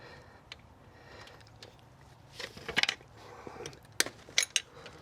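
A 10mm box-end wrench works the cooling fan bolts on a 1996-2004 Nissan Pathfinder, giving sparse metallic clicks and clinks, with a short cluster of sharper ticks near the end against quiet background.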